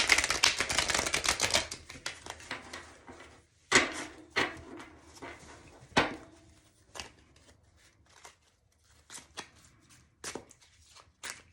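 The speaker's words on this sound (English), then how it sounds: "We got to give these a good shuffle since all the decks are in order." A tarot card deck is shuffled by hand, starting with a dense riffling burst and then a series of separate sharp card snaps and slides, close and fairly quiet.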